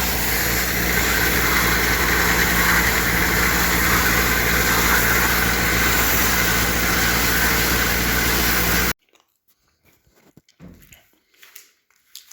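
A tractor engine runs loud and steady, a continuous mid-low drone, while an oat silage bale is moved, then cuts off abruptly, leaving only faint scattered noises.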